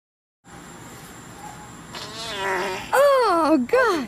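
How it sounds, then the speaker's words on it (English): A drawn-out, wavering fart builds and grows louder in the last second and a half, heard close up with some shouting around it. "Did you fart at the same time I said that?"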